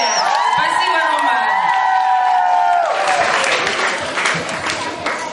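Children at a summer-camp talent festival applaud and cheer, starting with a long high-pitched shout over clapping that thins into steady applause and scattered calls, loud and close.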